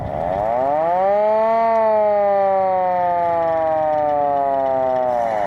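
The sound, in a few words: hand-cranked siren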